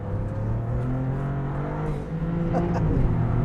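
Alfa Romeo 33 Stradale with a twin-turbo V6 engine running on a test track, a steady droning engine tone holding at moderate loudness and rising slightly toward the end, heard alone without voices.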